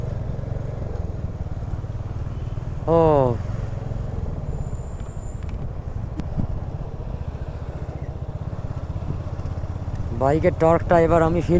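A motorcycle engine drones steadily at close range as it climbs a steep mountain road near Purulia, a low continuous hum under wind, with someone talking over it in brief bursts.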